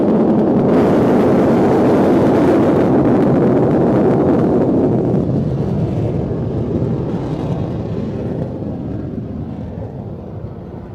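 A fixed-wing aircraft roars on its takeoff run at an air show, a loud broadband engine rumble that holds steady for several seconds, then fades gradually as it climbs away.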